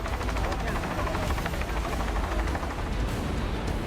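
Rescue helicopter flying over flood-hit areas of Rasuwa, Nepal, a loud, steady rotor chop and engine roar that stays constant throughout.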